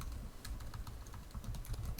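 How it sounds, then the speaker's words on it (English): Rapid, irregular clicking of keys on a computer keyboard, typed up close and steadily for a couple of seconds with no voices. "So let's get started typing this."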